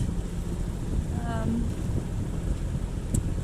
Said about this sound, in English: No wind, so we just have to run the motor.